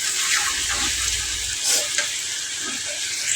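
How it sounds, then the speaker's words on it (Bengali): Tomatoes sautéing in a pan give a steady, close sizzling hiss, with a low rumble of stirring in the first half and a few soft scrapes of the spoon later. "টমেটো কষাচ্ছি।"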